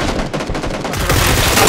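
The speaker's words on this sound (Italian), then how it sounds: "C'è gente da tutte le parti che spara davanti a noi" Gunfire in PUBG rings out as a dense, loud, continuous stream of overlapping shots with no break and no voices, growing slightly louder toward the end.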